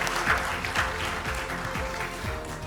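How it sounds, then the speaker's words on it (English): An audience at a conference showcase claps steadily in a dense, sustained round of applause that fills the room evenly, with no talking over it. "Please give her a big round of applause."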